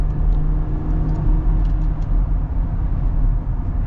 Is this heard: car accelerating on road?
yes